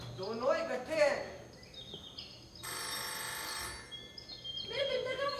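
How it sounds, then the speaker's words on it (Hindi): A telephone rings during a Hindi stage play at a youth festival, a short electronic ringing burst heard between spoken lines, with people talking before and after it. "मेरे बिंदर का फोन होगा।"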